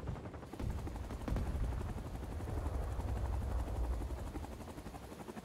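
A helicopter in the Vietnam War shooter Rising Storm 2: Vietnam, with a steady low rotor thump and drone running throughout the clip, mixed with bursts of distant gunfire.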